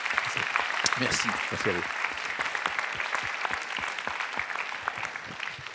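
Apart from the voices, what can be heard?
audience applauding the speaker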